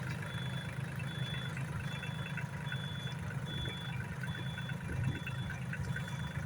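A Solis 26 mini tractor engine runs steadily at 1100 rpm in first gear, with a faint regular beeping repeating over the rumble.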